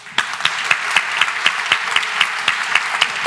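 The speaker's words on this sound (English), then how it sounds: "we'll do one final round of applause for everyone" An audience at a Cambridge Union debate applauds steadily, a dense, close clapping with sharp individual claps standing out throughout.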